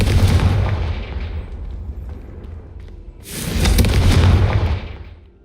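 Confringo fire spell in Hogwarts Legacy bursting twice: a loud booming blast that trails off, then a second heavy explosive boom a few seconds later, with no talking.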